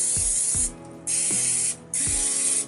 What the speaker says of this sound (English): We're gonna spray them with Pam.